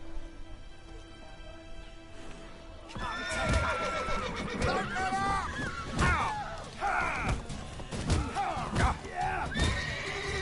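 A horse in The Witcher 3 neighs and whinnies several times amid hoof clip-clop and game sound effects, loud and close, with a voice talking at times.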